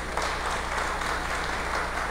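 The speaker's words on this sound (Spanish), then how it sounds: "Un aplauso." Congregation applause during a church wedding ceremony in Quito, Ecuador, a continuous, even roar of clapping filling the hall.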